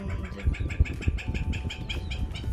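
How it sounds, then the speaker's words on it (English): Birds at Lagoa Rodrigo de Freitas lagoon chirp in a steady series of short, high calls, moderately near, over a low rumbling outdoor background. "there's a lot of birds here,"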